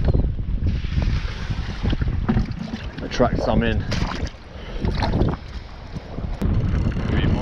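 Strong wind buffets the microphone on the water during a cold, windy shark-fishing outing from a boat, a steady rough roar throughout with a person speaking over it.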